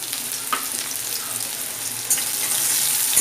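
Finely chopped onion hitting hot oil gives a steady, bright sizzle close by, with a small crackle burst partway through and the hiss swelling slightly louder toward the end; no voices.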